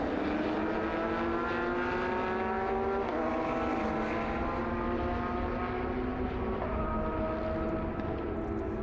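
Race cars including a Porsche 718 Cayman circle the Red Bull Ring, with continuous loud engine drone and harmonic pitch sweeps as cars shift and pass, no voices.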